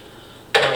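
Hot water suddenly starting to pour into a carboy, a bright rushing splash that begins abruptly after a near-silent moment and continues steadily.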